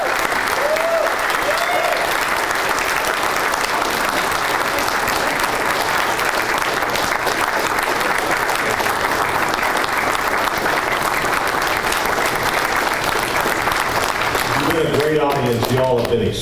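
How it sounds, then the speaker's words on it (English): Sustained applause from an audience at a public forum on Amendment 2 in Jefferson City, a dense steady clatter of many hands lasting throughout, with a voice starting to speak near the end. "give them a round of applause"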